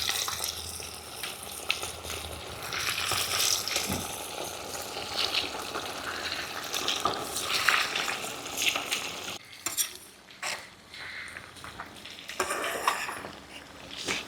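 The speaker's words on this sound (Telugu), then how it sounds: "కొరమేను ముక్కలన్నీను చక్కగా ఈ విధంగా బ్రౌన్ కలర్ వచ్చే వరకు వేయించేసుకున్నాను" Koramenu fish pieces fry in oil until browned for a pickle. A low, steady sizzle runs throughout with occasional stirring and utensil clinks against the pan, close and fairly quiet, and nobody speaks.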